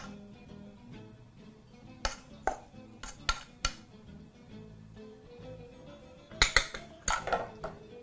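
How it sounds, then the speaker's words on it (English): Steamed rice being scooped onto a side plate: a spoon scrapes and taps against the pot and dish in a series of sharp metallic clinks, sparse at first then clustered near the end, close and fairly quiet. "proceed to scoop your rice into a side plate of choice"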